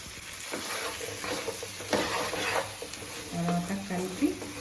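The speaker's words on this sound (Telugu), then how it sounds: "కొంచెం వేగాక సొరకాయ వేసుకొని, సొరకాయ టమాటా వేసేసుకోండి పోపులో." Bottle gourd and tomato frying in a sambar tempering give a steady, close sizzle with scraping stirs and a few utensil knocks.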